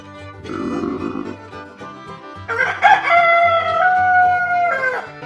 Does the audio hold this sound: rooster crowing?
yes